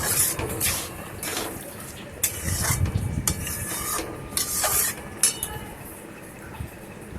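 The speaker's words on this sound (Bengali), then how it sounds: "এবার আমি ঢেলে এটা অন্য একটা পাত্রের মধ্যে রেখে দেবো।" Boiled vegetables for a dal-free Ekadashi khichuri being poured from one pot into another, giving wet scraping and metal clinks of the pots in uneven bursts, close and moderately loud.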